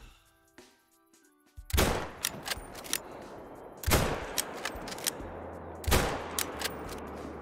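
Three loud, sharp rifle shots fired at a female Cape buffalo on a hunt, each a heavy crack with a rolling echo, spaced about two seconds apart outdoors.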